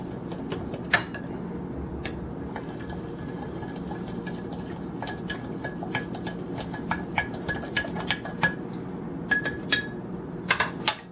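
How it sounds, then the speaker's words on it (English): Salt solution being stirred in a container while making ORMUS, with a steady mechanical whir and frequent light clinks and taps against the vessel. "Let's stir up the salt."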